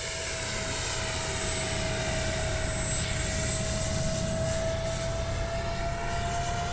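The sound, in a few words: Freewing 70mm F9F-5 Panther RC jet flying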